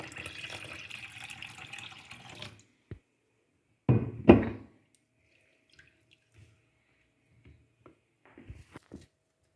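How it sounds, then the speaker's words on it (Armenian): Water is poured into a dish to soak bread, a steady splashing pour for about two and a half seconds, then a few sharp knocks and faint clatters in a quiet room. "Հիմա մի քիչ ջուր լցնենք ու հաց փրթենք մեջը։"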